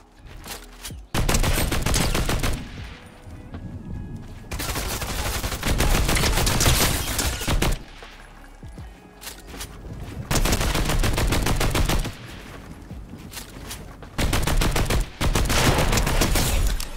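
A light machine gun firing in a video game, long sustained loud automatic bursts broken by brief gaps, with steady rapid reports close up.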